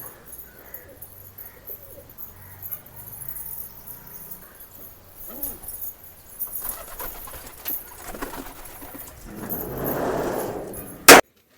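Pigeons in a backyard loft built of brick racks, with soft cooing and bird calls under quiet outdoor ambience, then a louder rustling burst near the end followed by a sharp close knock.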